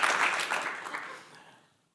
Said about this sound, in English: and yes, you can clap.